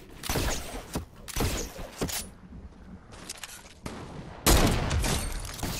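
Gunfire in a shooter video game: several loud, close bursts of rapid shots separated by brief pauses, with a final heavy blast, and no talking.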